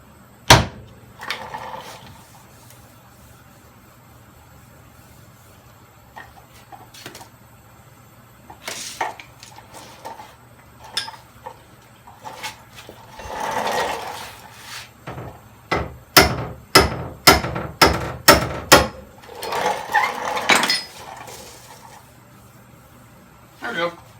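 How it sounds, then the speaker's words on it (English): Knuckle taps on a Toyota Camry body panel backed by a glued inner metal panel, a quick series of sharp knocks that cluster into a rapid run, with speech between them. "I'm not only tapping this, I'm tapping the inner metal panel that's glued to it"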